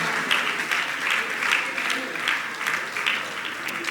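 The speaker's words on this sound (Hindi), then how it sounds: "आपकी तालियां बजती रहना चाहिए" A seated audience at a religious discourse applauds steadily, dense rhythmic clapping holding a constant level throughout.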